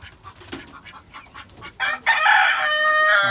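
Chickens cluck softly at first, then a loud, sustained fowl call rings out close by for the final second or so.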